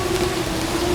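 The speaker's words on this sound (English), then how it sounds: "now the wind and rain's coming up." Wind and rain during a drone flight in a rain torture test, a steady dense hiss of rainfall with a constant motor-like hum running through it, close and continuous.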